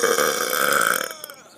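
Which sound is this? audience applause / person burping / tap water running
person burping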